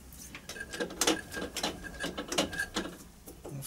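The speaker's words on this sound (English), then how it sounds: "A little bit of cutting paste on the tap as we start to tap this now." A taper tap with cutting paste turns into metal to cut a thread for a small garden railway carriage build, giving close, soft irregular creaks, clicks and squeaks in short rhythmic bursts.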